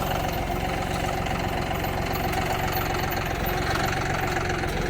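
A tractor engine runs steadily nearby, a low rumbling idle with a rhythmic knocking pulse throughout.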